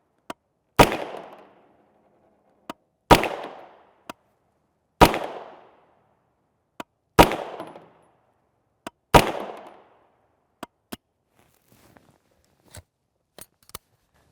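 Five sharp gunshots from a UTAS Mini 9 short-barreled 9mm rifle with a 6-inch barrel and straight blowback action, firing 115-grain TMJ rounds. Each loud report is spaced about two seconds apart, with a short decaying echo, and faint clicks fall between the shots.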